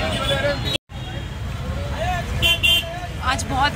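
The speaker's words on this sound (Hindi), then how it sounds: "पीछे बहुत ट्रैफिक हो रहा है इधर" Busy Sadar Bazaar market street in Delhi with close traffic rumble, several short car and scooter horn toots, and crowd chatter, under someone talking near the microphone.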